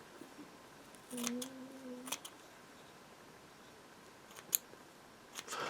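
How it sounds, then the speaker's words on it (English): Scissors trim the uneven bristle tips of a paintbrush: a few close, crisp snips, including a short squeaky pair around one cut, spaced apart in a quiet room. "I get my pair of scissors and I cut the tips, give it a haircut"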